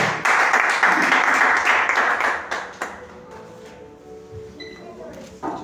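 Congregation applauding during an Assembly of God church service: a loud wash of clapping for about three seconds that tapers into a few scattered claps, with faint voices beneath as it dies away.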